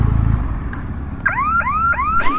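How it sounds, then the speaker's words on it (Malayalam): A vehicle's novelty horn is sounded while it is stopped, giving four rising, whistling chirps in quick succession. A low engine rumble can be heard just before the horn. "ഞാൻ ഇവിടെ നിർത്തിയിട്ട് ഇതിൻ്റെ ഹോൺ ജസ്റ്റ് ഒന്ന് അടിച്ച് കേൾപ്പിച്ച് കാണിച്ചു തരാം."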